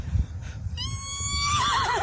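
A person vocally imitates a horse neighing, a rising then wavering whinny that swells in pitch and loudness near the end, close and alone with no talk over it.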